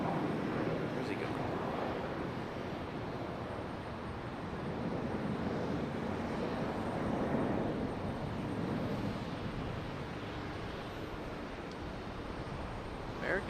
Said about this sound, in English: American 777 arriving from Miami.